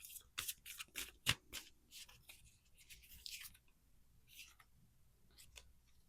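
Tarot cards being shuffled by hand in a quiet room, a faint series of short papery riffles and taps in an uneven rhythm that thins out toward the end, with no talking.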